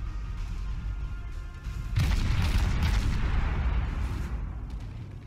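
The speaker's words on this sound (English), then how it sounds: "Oh, here comes torpedoes." Torpedo impacts in the World of Warships naval combat game: a steady rumbling battle bed that swells into a loud, sustained booming explosion roar, then lingers heavily before easing slightly.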